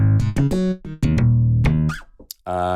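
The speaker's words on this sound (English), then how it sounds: "Then you go to the Black Beauty slap by itself." Punchy slapped electric bass notes from a Black Beauty slap bass sample ring out one after another, each with a sharp percussive attack and a deep, buzzy tone, playing alone.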